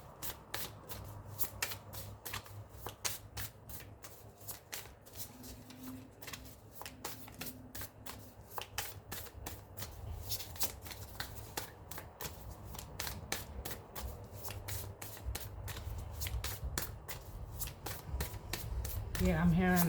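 A deck of tarot cards shuffled by hand, a rapid, close run of crisp riffling flicks that continues throughout, with a person speaking over it now and then.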